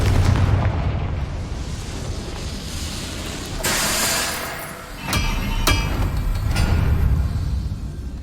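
Spell explosion from the Confringo fire curse in the Hogwarts Legacy video game, a loud burst around the middle that sits inside dense, continuous game noise with a few sharper cracks afterward.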